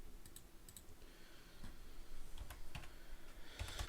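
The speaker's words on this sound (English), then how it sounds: "I just type it in." Sparse, soft keystrokes on a computer keyboard, scattered clicks at an uneven pace over a faint steady background hiss, with a slightly denser flurry at the end.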